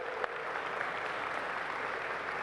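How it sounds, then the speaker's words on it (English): An audience at a Cleveland mayoral town hall applauds in a steady, dense patter of clapping that fills the whole stretch without talk. "Give her a big round of applause."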